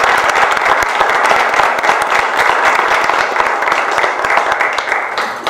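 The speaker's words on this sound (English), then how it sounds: "I want to give the volunteers a round of applause." Loud, sustained applause from a crowd at a Tea Party meeting, honouring the volunteers who stood up. It is a thick, continuous roar of many clapping hands from start to finish.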